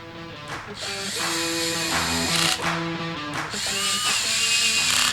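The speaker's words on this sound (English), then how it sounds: "we're gonna go ahead and tighten the oil pump ones first, and then work our way around in a zigzag pattern" A power drill runs in several bursts, its whine rising and falling in pitch, while it tightens the oil pump bolts during a high-performance 575 grind camshaft install. The sound is close and loud, with brief pauses between the bursts.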